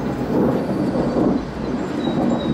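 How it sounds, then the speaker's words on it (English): Deep thunder rolls through a summer storm in a steady, broad rumble that swells and lingers, loud and close, with no talk over it. "I love listening to thunder."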